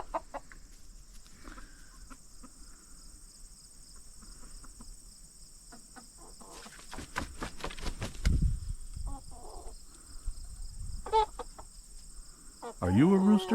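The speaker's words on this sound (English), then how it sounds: "There's another rooster." A rooster crows and clucks nearby among wing flaps, with crickets chirping steadily in the background.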